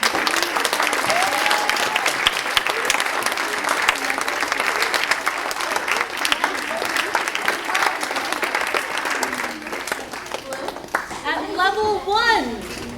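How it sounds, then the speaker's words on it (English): Audience at a student string and vocal recital clapping in a sustained, dense round of applause that fades near the end as children's voices chatter nearby. "Are we ready to clap?"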